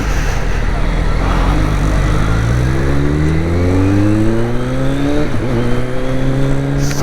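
A Kawasaki Z900 motorcycle fitted with a new aftermarket exhaust revs hard, its engine note climbing steadily in pitch over several seconds, then dipping and rising again, loud and close throughout.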